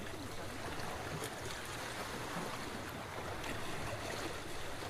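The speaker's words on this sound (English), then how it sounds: "all I hear is the water" Steady rushing water by a beach, a broad continuous wash of flow and surf that stays loud and unbroken throughout, with no clear voices over it.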